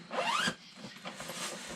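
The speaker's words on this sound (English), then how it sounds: "first thing you probably notice here is on the top is a zipper" A zipper on the lid of a Pacific Rink hockey bag is pulled open in one quick rising zip, close and clear, followed by faint handling rustles.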